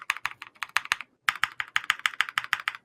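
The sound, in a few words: custom budget mechanical keyboard typing sound test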